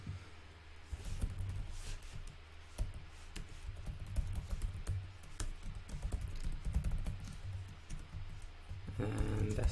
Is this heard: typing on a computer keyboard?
yes